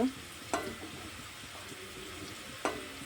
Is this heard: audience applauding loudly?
no